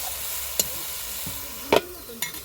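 A spoon scrapes and stirs curry in a pan, three sharp clanks against the metal over a low background sizzle, close and alone.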